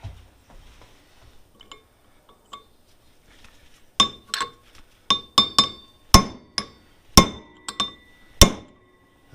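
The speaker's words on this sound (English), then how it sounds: "I should be able to take this chisel and get in there and hit it" A hammer strikes a chisel on a Bobcat 743 part, a dozen or so sharp ringing metallic blows in an uneven rhythm, close and loud, preceded by a few faint taps and quiet handling.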